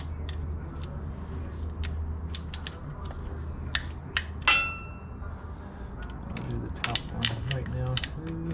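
A torque wrench tightens valve cover bolts on a Mercedes ML, giving a string of sharp metallic ratchet clicks, with a louder snap near the middle, against a steady low background hum.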